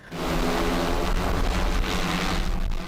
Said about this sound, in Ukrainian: Прилітає наш дрон, вампір, ми його баба Ягою називаємо.